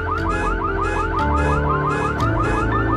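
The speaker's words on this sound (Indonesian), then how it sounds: "tiba-tiba suara alarm mobil membuatnya terkejut" A car alarm blares continuously, cycling through rapid warbling and whooping tones at a loud, steady level with no other sounds.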